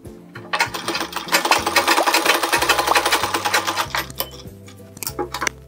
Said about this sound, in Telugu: ఇలా క్రాస్ ముక్కలను తీసుకొని జాయింట్ చేసి నెక్ పీస్ స్టిచ్ చేసుకోవాలి.